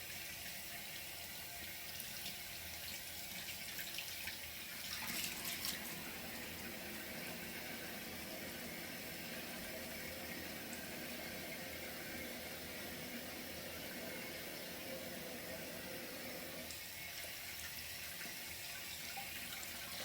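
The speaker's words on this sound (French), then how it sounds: "Je vais rincer mon masque." Tap water runs steadily into a sink while a face mask is rinsed off, a continuous close rushing splash with no speech.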